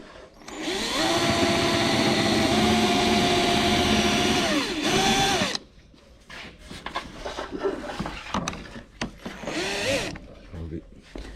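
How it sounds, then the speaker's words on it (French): A power drill bores out rivets on a Tesla Model 3, a loud sustained whine for several seconds with pitch dips as it bites, then stops; someone talks afterward amid handling noises and a brief second burst. "on va utiliser pour ça une perceuse pour les deux rivets ici"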